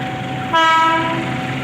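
Kuto Jaya Utara passenger train with stainless steel economy cars passing close, its horn blaring loudly over the steady rumble of the wheels, no voices.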